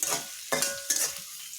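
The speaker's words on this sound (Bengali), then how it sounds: "আমি এখানে দিয়েছি রসুন কুচি পেঁয়াজ আর কয়েকখানি কাঁচামরিচ দিয়ে ভালোভাবে আমি নাড়াচাড়া করে নিতেছি" Chopped garlic, onion and green chilies fry in a pan, with three quick scraping stir strokes over a continuous close sizzle.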